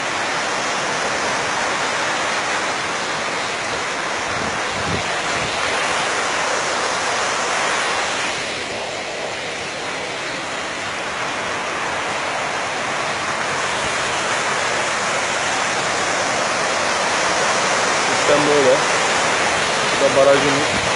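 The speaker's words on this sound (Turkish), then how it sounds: "Barajımız. Bu da dere." Stream water rushes steadily below an old stone watermill dam, a loud, unbroken broadband roar that swells slightly toward the end, with no pauses.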